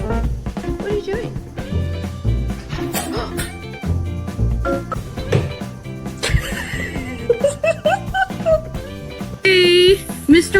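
A horse gives a couple of rising, wavering neighs amid a busy mix of animal noises and people talking nearby.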